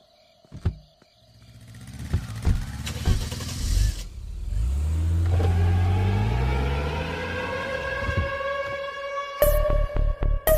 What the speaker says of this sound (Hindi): कार निकाल।